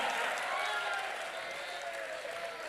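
An audience at a Hindi comedy poetry show (hasya kavi sammelan) applauds in a dense, continuous wash of clapping that carries steadily through the whole short moment.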